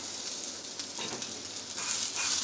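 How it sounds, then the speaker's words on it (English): Homemade chicken jalapeno sausage sizzles in a frying pan, a steady close crackling hiss with brief stirring scrapes, cooked toward well done. "You can hear that sizzle. Got a good sizzle going on."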